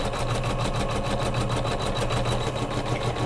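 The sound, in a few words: embroidery machine stitching quilt pillow in hoop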